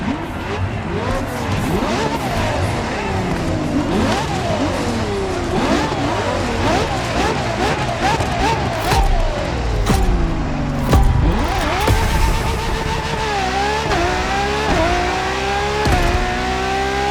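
Ferrari LaFerrari hybrid supercar in the racing game The Crew Motorfest, loud engine revving and rising through gears repeatedly, sweeping up and dropping between shifts, with occasional tire squeal.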